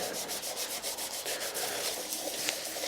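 An abrasive wipe scrubbing carbon off a Peugeot 106 GTI engine head, rhythmic close rubbing strokes repeating back and forth steadily, with no talking.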